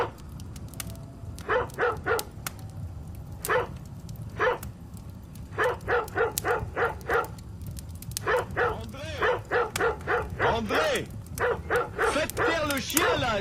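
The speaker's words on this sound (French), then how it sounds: "mais le chien aboie" A dog barks outside a house in repeated short bursts, a steady run of yips and barks that grows busier toward the end, moderately near, over a low background rumble.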